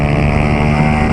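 A Honda Titan 150 motorcycle fitted with a Pro Tork exhaust revs hard, giving a loud, steady, close engine roar with a dense buzzing drone throughout.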